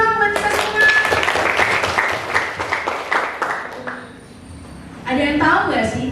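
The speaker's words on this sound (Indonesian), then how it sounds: "Tepuk tangan dulu dong buat kita semua." Audience applause at a school Christmas service and celebration in Indonesia, a burst of many hands clapping for about four seconds, fading, then swelling again near the end, with voices mixed in.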